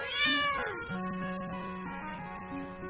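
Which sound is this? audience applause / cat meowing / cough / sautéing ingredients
cat meowing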